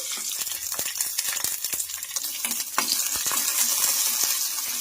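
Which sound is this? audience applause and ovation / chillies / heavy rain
chillies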